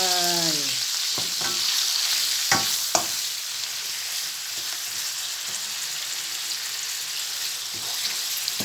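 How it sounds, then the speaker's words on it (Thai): Fresh shrimp with salt stir-fry in a pan under a continuous loud sizzle, with a brief squeak at the start and a few clanks of a utensil stirring. "ผัดกุ้งให้สุกก่อนเนาะ"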